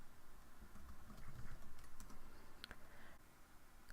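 Someone types a command on a computer keyboard, a quiet run of close, rapid key clicks over a steady background hiss, with no voices.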